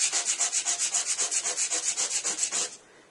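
Sandpaper rubs back and forth on a small part of a model airport A380 jetway in quick, even strokes, about eighteen close raspy swipes that then stop.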